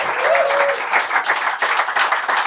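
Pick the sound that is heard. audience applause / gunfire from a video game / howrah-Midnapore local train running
audience applause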